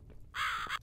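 A single harsh crow caw in the video game The Cat Lady, short and bright, standing out clearly over a quiet low ambient background.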